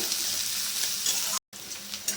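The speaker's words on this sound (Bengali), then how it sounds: "মাঝারি সাইজে দুটো পেঁয়াজ এইভাবে ডুমো ডুমো করে কুচিয়ে নিয়েছি ছোট্ট ছোট্ট করে একটু লাল করে পেঁয়াজটা ভেজে নেব" Diced onions fry for a Bengali mung dal with fish head, crackling steadily in hot oil with a short silent break before the sizzle resumes.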